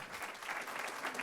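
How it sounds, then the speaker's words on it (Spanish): A brief burst of dense, even clapping from a small audience, steady and moderately faint throughout. "Un aplauso a la gente de YouTube"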